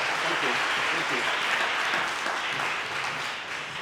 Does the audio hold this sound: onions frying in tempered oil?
no